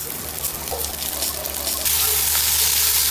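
Beef frying in oil with garlic in a pan, a steady broadband sizzle that grows louder and denser partway through, with no talking.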